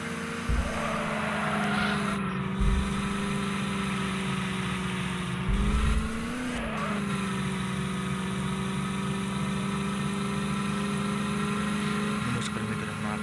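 A mini DJ vehicle drives toward a wedding hall, its engine humming steadily at a medium pitch throughout, with brief dips in the low rumble and a faint rattle near the middle.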